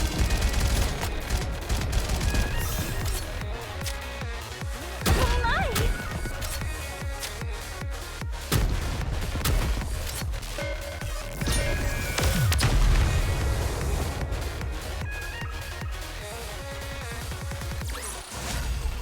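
Sustained gunfire and explosions in the mobile shooter NIKKE, dense automatic bursts with heavy booms and a few brief lulls, loud over a musical game soundtrack.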